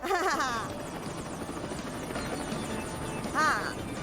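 Cartoon helicopter flying over a canal, a steady whirring buzz held throughout, loud and close, with brief animated vocal chirps near the start and end.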